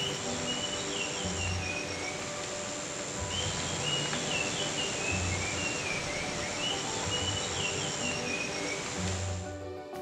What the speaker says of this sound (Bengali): আজ সকালবেলা পাখির ডাকে ঘুম ভাঙল। এত মিষ্টি করে গান গাইছে